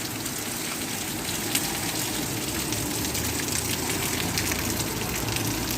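Heavy downpour of rain, steady and dense, a constant close wash of drops hitting surfaces with no voices.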